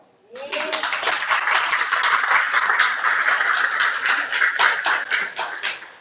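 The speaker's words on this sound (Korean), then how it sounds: "저희 박수라도 좀 치고 갈까요?" A seated audience at a Korean financial education lecture on insurance breaks into sustained, even applause of many hands, starting abruptly after a brief voice and holding steady for about five seconds.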